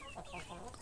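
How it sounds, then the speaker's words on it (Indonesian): Free-range village chickens cluck softly at a farm where chicks have just hatched, a brief, low-level patch of continuous clucking with no talk. "Kakaknya ayam yang baru menetas."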